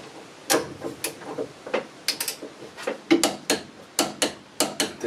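Ratchet wrench tightening 17 mm bolts on the transmission mount of a VW Polo 86C, with an aluminium bracket, making a close series of short metallic clicks and taps in an irregular rhythm, and no talking.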